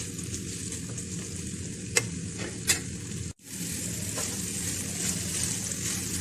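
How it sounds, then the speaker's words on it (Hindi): Chicken pieces frying in a pan for homemade macaroni, a steady close sizzle with stirring scrapes, two sharp clinks and a brief cut-out midway before the frying noise resumes. "इसके अंदर चिकन बहुत अच्छे से फ्राई हो रहा है।"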